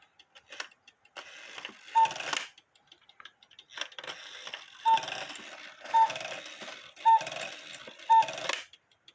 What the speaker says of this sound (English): As you can see, it's cuckooing without the low note lift bellow in it.